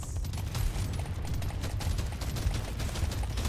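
Continuous automatic weapon fire crackles loudly in Deep Rock Galactic Survivor, a relentless overlapping stream of shots with no pause.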